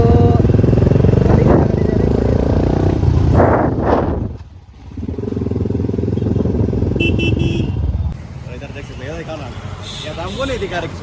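Royal Enfield Bullet motorcycle engine idling and revving, a loud steady thump that dips briefly before picking up again, heard under someone talking and a light horn toot.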